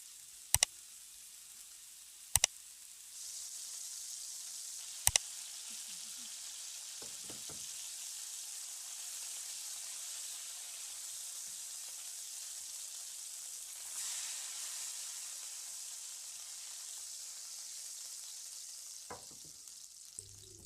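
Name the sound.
kebab meat frying in a pan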